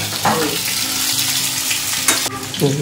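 Pointed gourd (potol) frying in oil in a pan gives a continuous close sizzle, with occasional stirring clatter and a low hum beneath; no voices are heard.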